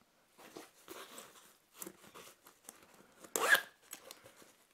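Soft, close rustling and scraping of the front flap zipper on a Simboom 15.6-inch laptop sleeve pulled in short intermittent bursts, with one sharper, louder zip near the end; quiet background otherwise.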